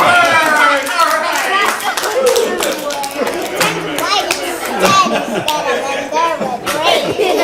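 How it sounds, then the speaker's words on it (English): Applause from an audience at a family sword presentation for a 2000 West Point graduate, loud dense clapping with cheering and chatter throughout, voices mixed in. "Big round of applause for everybody."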